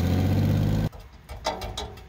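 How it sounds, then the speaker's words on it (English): Honda Acty kei truck exhaust with a leaking muffler, a loud, raspy engine drone that cuts off abruptly after about a second, followed by a few scattered clanks and bumps. "We have a leak in the muffler."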